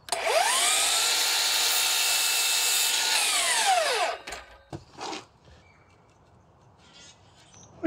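Power tool trimming an eighth of an inch off a wooden board for a patio table rim, a steady loud whine running about four seconds then spinning down, followed by a couple of brief knocks and quiet shop noise.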